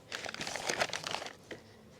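A short burst of close crinkling from a plastic bag holding wood glue rustles for about a second and a half, then fades to quiet.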